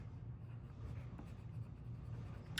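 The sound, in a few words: colouring on card with Cherry Cobbler pencil crayon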